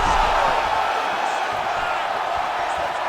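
A large crowd in the video game UFC 5 roars steadily throughout, a dense wash of cheering and murmur with no clear breaks, loud and continuous, during a fight.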